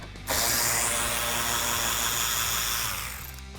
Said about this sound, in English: use my 7mm socket to remove these 2 screws in the wheel well that holds the lower lip onto the vehicle